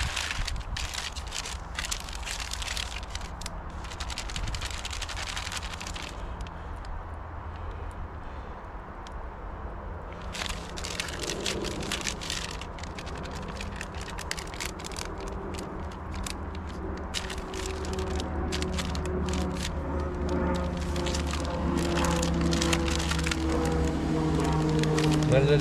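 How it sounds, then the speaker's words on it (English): Steady crackling and fizzing with sharp snapping bursts, a self-heating food pack reacting with water and rapidly releasing steam close by, slowly building in loudness over the whole stretch. "you get a very rapid expansion of steam as the water reacts with the chemicals"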